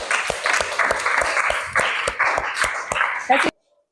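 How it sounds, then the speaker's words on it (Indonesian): A classroom group claps in a lively burst, many hands slapping unevenly for about three and a half seconds before the sound cuts off abruptly into silence. "Tepuk tangan untuk Melani."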